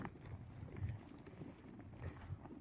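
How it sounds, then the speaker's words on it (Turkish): Low, steady wind rumbling against the microphone on an open hillside pasture where a flock grazes along the ridges on a hot day, a continuous soft buffeting with gentle gusts and no voices. "rüzgar esiyor"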